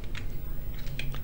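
Several quick, close keystrokes on a computer keyboard come in short bursts over a low background hum.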